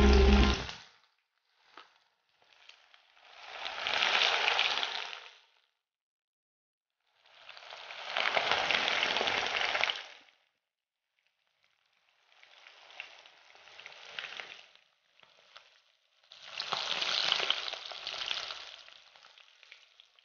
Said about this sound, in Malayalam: അപ്പം ഇനി നമ്മൾ എണ്ണ ചൂടായി ട്രൈ ചെയ്തെടുക്കാം.